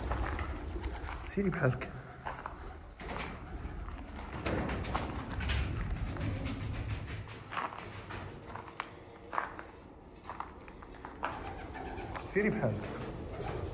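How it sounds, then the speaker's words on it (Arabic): Many pigeons nesting on the ground coo softly and intermittently nearby while someone speaks over them. "كاين بزاف د الحمام حاضنه الدراري هنايا لتحت"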